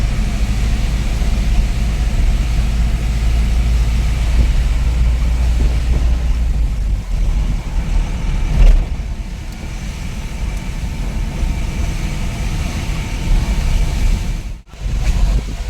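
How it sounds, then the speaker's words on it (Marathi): Mini truck rolling along the Murbad–Karjat road in the Konkan region, a steady, loud engine and road rumble with heavy wind buffeting throughout and a brief dip near the end. "या रस्त्यावरती आपण आता राईड करतो आहे"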